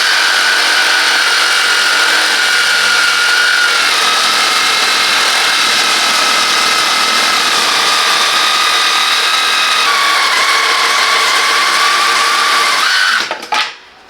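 A Parkside 20V cordless saber saw (PSSAP 20-Li) runs continuously at high speed, a loud steady whine whose pitch shifts slightly before it winds down abruptly at the end.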